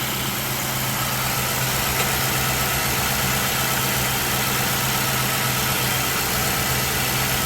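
A car engine idles steadily after a brief rough start, a continuous low chugging rumble with a constant hum, close and alone with no talking.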